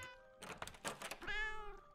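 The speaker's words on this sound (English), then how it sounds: "That's so typical for a little kitty to get itself stuck into something like that." A cartoon cat in the video game Hidden Paws gives a short, clear meow after a few soft thumps and clicks, close and fairly quiet, ending in a sharp click.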